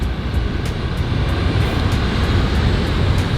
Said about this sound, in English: Got their waves crashing on the rocks down there.